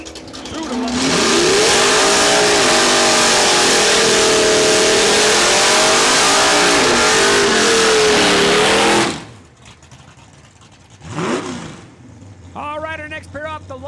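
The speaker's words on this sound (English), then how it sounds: "Looks like Mark Harris making his way with the Mustang down the track" Drag racing cars, a Mustang and a Duster, launching down the strip at Saskatchewan International Raceway, a loud sustained engine roar with revs rising and falling for several seconds, then cutting off; a far quieter engine follows with voices after.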